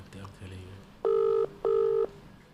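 Ringback tone of an outgoing phone call waiting to be answered, two loud steady buzzing rings with a short gap, after quieter background voices and room noise.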